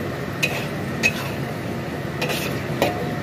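Mushrooms and sausage stir-fried in a wok give a steady sizzle under a few sharp metallic clinks of a spatula scraping the pan, close and continuous without speech.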